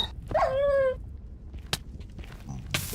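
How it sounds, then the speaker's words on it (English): A fiery wolf-like hellhound in Minecraft gives a single short, whining bark-yelp with a ringing tonal tail, fairly close, followed by scattered faint game clicks and thuds. "That thing sounded like a regular wolf though."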